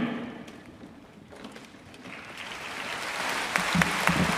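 A church congregation applauds a guest speaker at a Sunday worship service, a steady wash of clapping that swells louder toward the end, with no voices over it.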